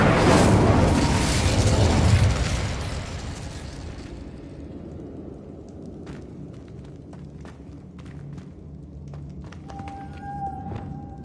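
A Confringo spell explosion in a Harry Potter game bursts loudly and broadly for about two seconds, then fades into a rumbling tail with scattered sharp taps and a brief tonal chime near the end.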